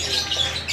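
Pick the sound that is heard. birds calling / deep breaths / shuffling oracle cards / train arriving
birds calling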